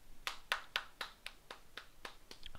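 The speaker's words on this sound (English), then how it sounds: "I'm clapping for you guys." A pair of hands claps about ten times in an even, brisk rhythm, each clap sharp and close against a quiet background, with no talking.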